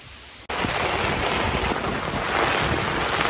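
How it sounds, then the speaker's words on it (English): Heavy rain pours down on an off-grid homestead, a dense, continuous roar that begins abruptly and holds steady and loud with no talking. "That is so much rain."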